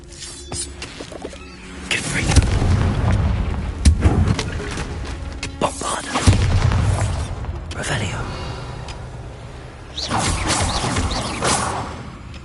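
Blasting curse explosions in Hogwarts Legacy combat, heavy booming blasts and crashing impacts layered with whooshes and clatter, loud and repeated through the stretch.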